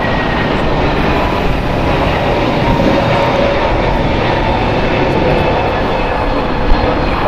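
A two-year-old JetBlue Airbus A321neo departs from LAX, its engines a loud, steady, unbroken roar with no voices over it.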